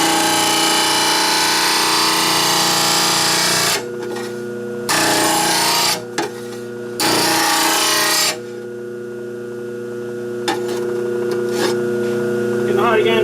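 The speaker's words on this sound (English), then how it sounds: "Well, I'll keep sharpening this." Wood chipper blades are sharpened with a power tool. The grinding runs in long, loud, steady bursts broken by short pauses, with a motor hum underneath.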